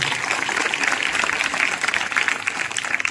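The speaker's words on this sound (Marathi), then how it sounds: "त्या दोघांसाठी एकदा टाळ्या होऊन जाऊ" Applause from an audience honouring two teachers at a Zilla Parishad school's Republic Day 2026 celebration in Savargaon: a steady, dense wash of clapping that lasts throughout at an even loudness.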